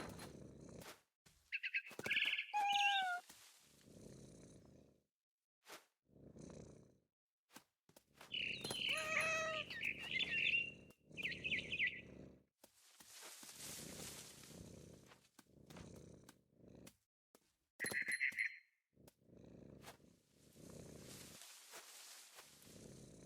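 A cat meows several times in the video game What Remains of Edith Finch, short rising and falling cries spread among low rustling movement and soft thumps, with quiet pauses between.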